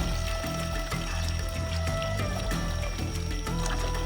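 Water splashes and trickles as it is poured over someone during a traditional bath in a rural Fijian village, a continuous close pour with a steady tonal hum beneath it.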